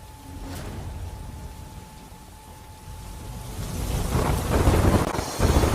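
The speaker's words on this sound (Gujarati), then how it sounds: "અત્યારે ઝમાઝમ વરસાદ પણ વરસી રહ્યો છે" Heavy rain pours down in Kamrej taluka under cloudy skies, a dense, steady roar that grows louder and rougher toward the end, with no voices.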